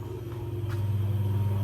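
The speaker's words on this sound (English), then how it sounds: "And that is the sound of the honey pump running." A steady low motor hum of a honey pump running in an extraction room drones continuously, close and moderately loud, with a faint click near the middle; no voices.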